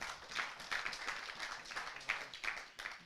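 A small audience at a business training session in Arusha claps in quick, uneven bursts, fairly faint and somewhat distant, with no one speaking over it.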